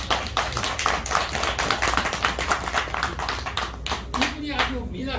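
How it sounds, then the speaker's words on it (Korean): Audience clapping at a Korean Buddhist temple's year-end service, a lively burst of hand claps filling most of the moment before tapering off as a voice returns. "박수 한번 쳐주세요."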